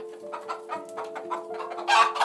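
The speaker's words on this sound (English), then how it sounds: "Hen." A hen clucks in a quick run of short, nasal calls, close and fairly loud, building to a brighter squawk near the end, with a steady tone underneath.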